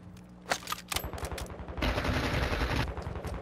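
Rapid bursts of automatic gunfire in Call of Duty: Modern Warfare II multiplayer, close and loud, with single shots followed by a sustained volley.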